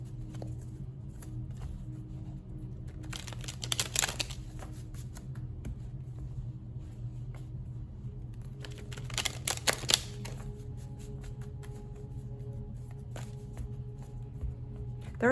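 A tarot card deck handled and shuffled, with brief bursts of riffling cards over a low steady hum, quiet and close, separated by pauses.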